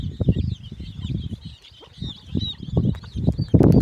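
Village-breed hens and chicks in a yard, with repeated clucks and squawks at close range that come in uneven bursts, plus some fowl honking and scuffling over the top.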